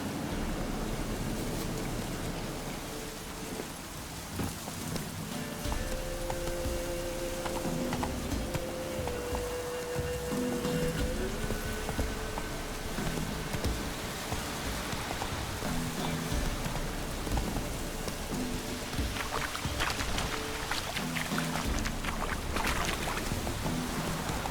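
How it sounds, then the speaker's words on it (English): Steady rain hiss falls throughout a Witcher 3 game scene, a continuous broadband wash with faint musical tones and occasional clatter layered over it, no talk. "Looks like rain."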